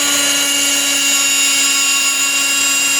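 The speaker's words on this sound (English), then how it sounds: "who needs a top dollar drill press when you're doing hot rod work" A steady, loud motor whine with a high-pitched tonal hum runs continuously and unchanging from an old drill press idling nearby.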